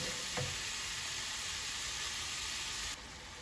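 Chorizo fries in a pan with a soft, steady sizzle and one brief clink of a utensil early on, then the hiss drops off abruptly near the end; no voices.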